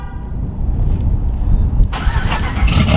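Jeep Gladiator engine cold-starting close up: a low rumbling crank and catch that settles into a loud, steady idle with a hissier rise near the end, no talk over it.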